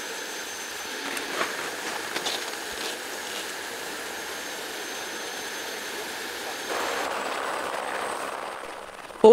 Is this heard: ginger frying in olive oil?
no